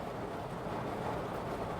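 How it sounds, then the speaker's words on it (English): Rain falls steadily outside a parked car, heard from inside the cabin as a soft, even hiss with no voices. "I'm outside in the rain"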